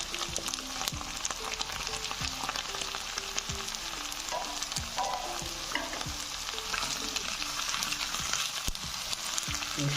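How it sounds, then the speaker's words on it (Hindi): Tinda (apple gourd) pieces stirred in hot oil in a pan, heard as a loud, steady sizzle broken by repeated spoon scrapes and knocks against the pan, close up and with no talking. "इसको अच्छी तरह मिक्स करेंगे ताकि ऑयल जो हमारा ये सबको लग जाए और अच्छी तरह ऑयल में ये फ्राई हो जाए"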